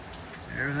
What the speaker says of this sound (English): Sitting out here on the back porch, watching it rain